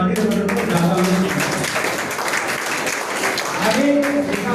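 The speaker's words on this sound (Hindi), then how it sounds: "आप लोगों का तालियां बजा दीजिए।" Students at a public school applaud in a hall, a brief burst of clapping mixed with a speaker's voice that carries over it at the start and again near the end.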